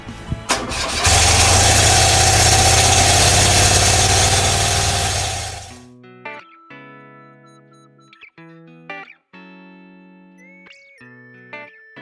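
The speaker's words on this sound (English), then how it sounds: "Now the bike was running" A restored BMW R100RS motorcycle engine cranks and catches, then runs loud and steady for about five seconds before cutting off abruptly, followed by quiet with a few faint knocks.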